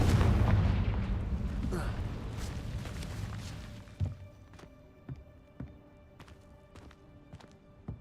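A Confringo explosion spell in Hogwarts Legacy lands with a heavy rumbling blast that fades out over a few seconds. Scattered sharp impacts and thuds follow.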